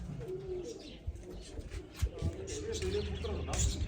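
Pigeons coo in low, soft rolling calls close by, with voices and light rustling around them.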